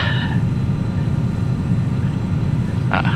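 A Challenger 300 business jet in the X-Plane 11 flight simulator rolls for takeoff, a steady loud low engine roar with broadband rumble throughout, a brief higher chirp near the end.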